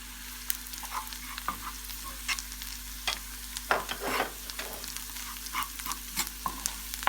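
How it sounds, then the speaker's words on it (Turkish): Onions frying in a pan with chili flakes, cumin, black pepper, salt and paprika added for a potato börek filling, a steady low sizzle broken by repeated scraping stirs, close and without voices. "İçerisine pul biber, kimyon, karabiber, tuz ve toz kırmızı biber ilave edip karıştıralım."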